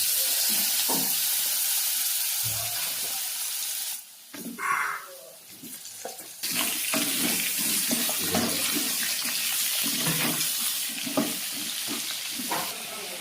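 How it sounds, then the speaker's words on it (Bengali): Potato pieces fry in hot oil in a pan with a close, bubbling sizzle and frequent crackles, dipping briefly midway before resuming strongly. "আলুগুলো লাল লাল করে ভাজা হয়ে গেছে।"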